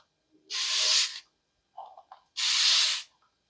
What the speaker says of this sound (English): And I'm just going to do a light mist.